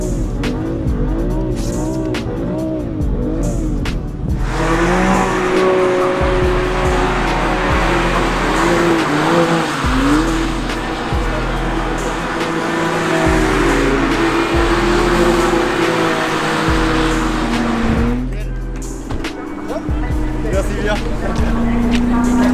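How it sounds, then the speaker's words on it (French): A car drifts around a track in a long, sustained slide, tires squealing loudly for about fourteen seconds over a revving engine, with a person talking before and after. "la voiture gardait une parfaite dérive"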